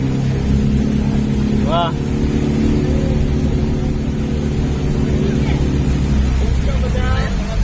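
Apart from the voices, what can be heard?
boat engine on a Kerala backwater ride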